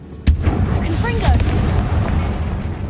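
In Hogwarts Legacy, the Confringo blasting spell sets off a loud, close explosion with a sharp onset, and a rumbling boom and roar trail after it. A voice speaks through the blast.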